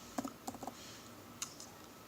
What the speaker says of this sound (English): We type in our username